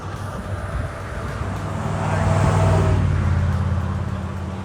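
Road traffic crosses a bridge over the Shenandoah River on the Appalachian Trail as a continuous broadband roar with wind, swelling as a vehicle passes close in the middle, then easing slightly.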